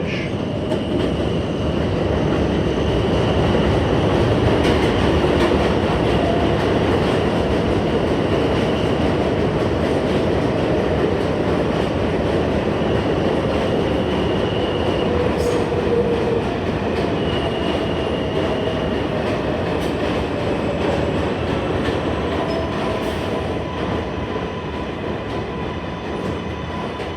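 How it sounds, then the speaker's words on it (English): A Manhattan-bound 7 local subway train runs at Queensboro Plaza station with a loud, steady rumble of wheels on rail and faint high squeals drifting through. It is close and constant with no talk over it. "This is a Manhattan-bound 7 local train."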